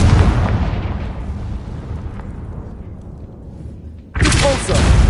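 A Confringo spell explosion in Hogwarts Legacy: a loud blast opens with a deep boom and a long rumbling decay, then a second sharp burst erupts near the end.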